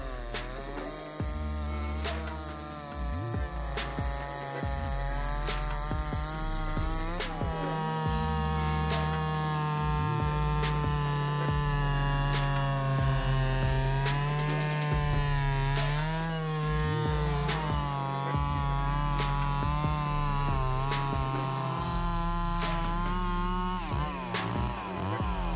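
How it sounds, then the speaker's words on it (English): Big chainsaws cut through tree wood in a continuous loud engine whine, the pitch rising and falling as the blades bite, with a sharper change partway through and no voices. "the satisfying moments of wood sawing machines"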